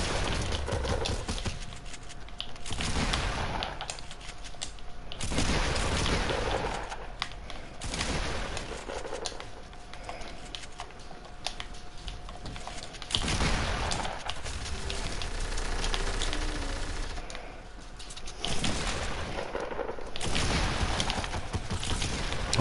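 Bursts of gunfire and dynamite-style explosions from a Fortnite solo match, loud, broadband blasts recurring every few seconds across the stretch, with a steady crackling game ambience between them and no talking.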